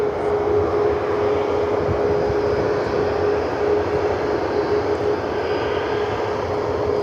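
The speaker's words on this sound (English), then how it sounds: "Third aircraft in line for Joey the Opossum, heading to Tampa" A plane's engines roar steadily at Cleveland Hopkins airport during plane spotting, a loud continuous droning with a sustained whine, heard alone throughout.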